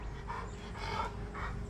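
Dog panting on a patio outside an apartment property with a pool, quick breathy pants coming in soft bursts at a moderate distance, no talking.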